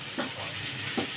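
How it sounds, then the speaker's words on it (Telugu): Radish sambar boiling in a pot, a continuous bubbling hiss with two soft low blips of bursting bubbles, close and steady, no one talking. "చూసారా ముల్లంగి సాంబార్ ఎలా మరుగుతుందో?"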